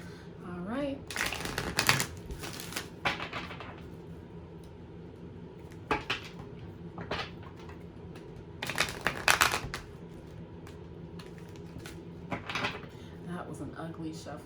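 Tarot cards are shuffled in several bursts of quick riffling and shuffling, close by, with handling noises and a voice speaking in between.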